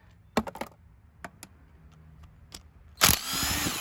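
Bolts and washers clink as they are removed from the clutch pressure plate of a Honda Magna V45 VF700C engine, a few sharp metallic taps close by, then a longer burst of rattling metal at the end.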